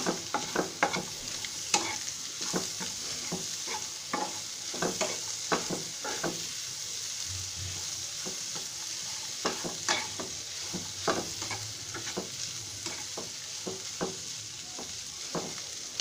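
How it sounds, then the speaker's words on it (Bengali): Maggi noodles with masala stirred and fried in a pan at home, a soft continuous sizzle broken by frequent light scraping stirs at an uneven rhythm, fairly faint with no talk. "দিয়ে নেড়ে চেড়ে কিছুক্ষণ ভেজে নিতে হবে খুব বেশি সময় এটাকে ভাজার দরকার নেই"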